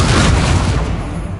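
An Incendio fire spell cast in Hogwarts Legacy, a loud, brief whooshing burst of flame with a booming low rush that fades slightly over a second and a half.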